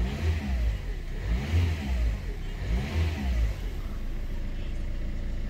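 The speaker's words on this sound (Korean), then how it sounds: "악셀 2번." Close-up Peugeot 508 engine revved twice from idle, each rev rising and falling back in a smooth swell before it settles into a steady idle.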